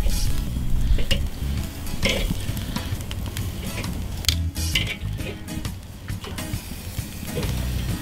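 Bacon-wrapped chicken tenders crackle and sizzle steadily on a grill cooking by the indirect method while they are flipped one by one, with scattered clicks and scrapes of tongs over the constant fat spatter; nobody talks.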